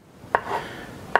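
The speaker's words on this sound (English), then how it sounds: "And then I slice these little stems off until I get the bottom flat like that." A knife slices through bulk white mushrooms, trimming the stems, and gives two crisp, sharp cuts about a second apart. Both are close and clean, with a quiet pause between them.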